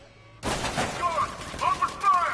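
Gunfire from a militia ambush in a Batman video game starts abruptly after a near-silent moment and becomes a dense, continuous clatter of shots, with shouted voices mixed in.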